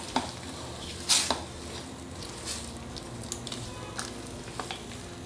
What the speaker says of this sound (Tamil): எல்லாம் நல்லா மிக்ஸ் பண்ணி விடலாம்.